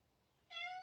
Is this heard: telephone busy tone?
no